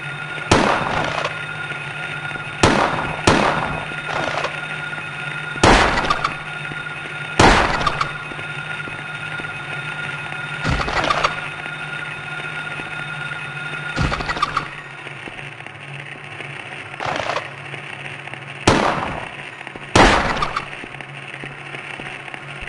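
Gunshots in the PS1 video game Silent Hill: about a dozen loud, sharp reports fired in irregular bursts and single shots, separated by short pauses over a low background hum.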